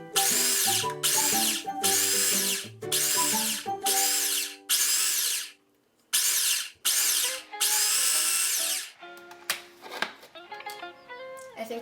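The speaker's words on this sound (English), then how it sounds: "you wanna blend this until it is like a powder, like a flour" A blender grinds oats into fine oat flour in a series of loud, harsh whirring pulses, some long and some short, separated by brief pauses, then ends in quieter clattering.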